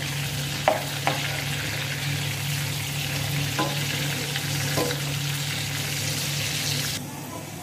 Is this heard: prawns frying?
yes